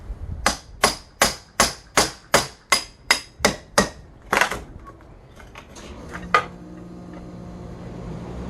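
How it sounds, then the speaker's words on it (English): Hammer and chisel strike a window frame to break the seal on a new impact window install in Florida, about ten sharp, evenly spaced metallic blows close by, followed by a few scattered lighter knocks and quiet handling. "We're going to hammer in the middle to break the seal on both sides."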